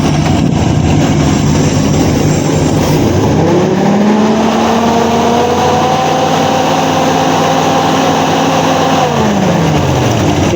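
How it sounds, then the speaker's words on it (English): A 1953 Ford Customline with a swapped-in 350 V8 revs up close and loud, its engine note climbing and holding over steady idle rumble, then dropping back down near the end. "just by revving the engine"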